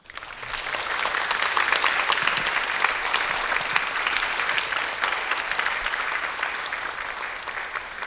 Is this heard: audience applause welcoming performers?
yes